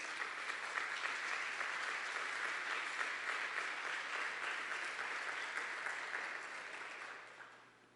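A church congregation applauds steadily throughout, a dense sustained clapping that holds for about seven seconds and then fades out at the end, with no talk over it.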